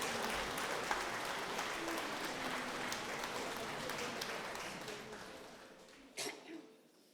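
Audience applause at a Lithuanian romance-song ensemble's 25th anniversary concert: dense, steady clapping from a crowd fills the hall, then tapers off and fades toward the end.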